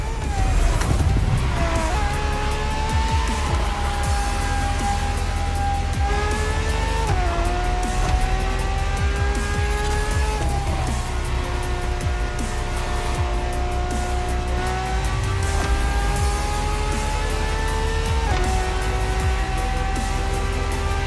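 A naturally aspirated Ferrari V12 hybrid races in The Crew Motorfest on Xbox, its loud engine howl climbing in pitch and dropping at each gear shift, repeated through the run with occasional tire squeal.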